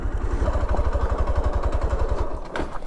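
A motorcycle idles on a hill road with a steady, fast low throb and a mechanical clatter, loud and close, easing off near the end.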